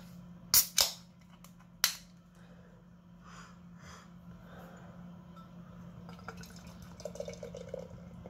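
A bottle of Brewdog Marshmallow Dessert Stout, a 6% beer, is opened with a few sharp pops and cracks. A quieter pour follows with soft liquid glugging and fizz over a low steady hum.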